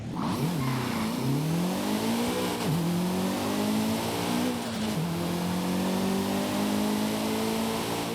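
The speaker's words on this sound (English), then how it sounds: "now let's go ahead and take a listen to the engine" A Mitsubishi Lancer Evo 3 rally car engine in Forza Horizon 5 revs hard and repeatedly, pitch rising and dropping through gear changes, loud and close, with no talking.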